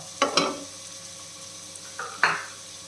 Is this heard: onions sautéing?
yes